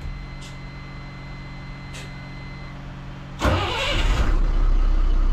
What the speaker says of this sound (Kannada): ಸೊ ಈಗ BS6 ಲೇಲ್ಯಾಂಡ್ ಇದೊಂದು ಇಂಜಿನ್ ಸೌಂಡ್ ನಾವು ನೋಡುವ ಯಾವ ತರ ಇದೆ ಹೇಳಿ.